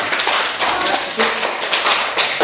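Students in a classroom clap their hands together in a quick, uneven round of claps, close and moderately loud, with voices mixed in.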